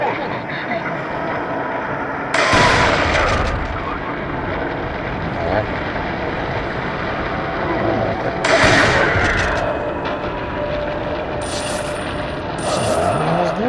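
Gunfire in the video game Resident Evil 4, with a few sharp, loud shots spaced several seconds apart over a continuous rumbling game backdrop and a man's speech.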